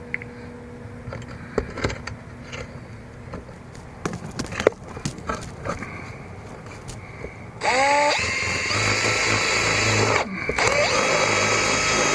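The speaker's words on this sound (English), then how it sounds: "So I'm going to start drilling this." A power drill whirs in short bursts against a car body amid clanks and knocks while a shifter box is installed in an EP3, then runs steadily and loudly for several seconds.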